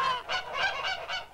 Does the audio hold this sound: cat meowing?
no